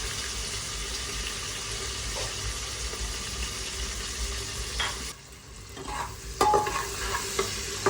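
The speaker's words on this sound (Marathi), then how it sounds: "टोमॅटो आपण चांगले परतून घेऊया" Tomatoes sauté in a pan for mutton masala, a continuous close sizzle with stirring scrapes, then a brief lull followed by clattering spoon knocks and renewed frying.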